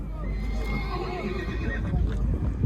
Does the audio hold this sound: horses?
yes